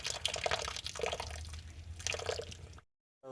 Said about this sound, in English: Water and steam in there, and the steam is pushing the water ahead.